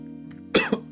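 A rough, harsh cough bursts out twice in quick succession, loud and close, after a quiet moment with a faint throat sound.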